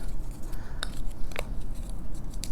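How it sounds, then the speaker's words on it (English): A bone folder scores paper along score lines for a folio mini album, making a few short dry scraping strokes close by over a low background hum. "I'm going to take my bone folder and score on those"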